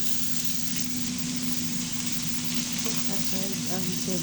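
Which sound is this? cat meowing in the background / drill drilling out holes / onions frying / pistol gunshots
onions frying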